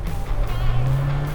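Mahindra Thar with a new 150 bhp petrol engine accelerating hard, a loud steady engine drone that climbs slightly in pitch throughout.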